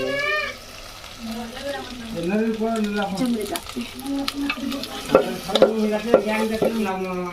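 Coriander sizzles as it fries in hot oil for a country chicken curry cooked over a wood-fired stove. The steady frying continues throughout, with a voice-like tone over the top in the first part.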